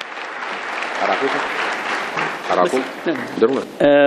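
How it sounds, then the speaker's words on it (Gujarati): Conference audience at a legal event breaks into sustained applause, a dense steady wash of clapping that swells near the end alongside a brief voice on a microphone. "તાળીઓના ગડગડાટથી આપણે એમને વધાવી લઈશું."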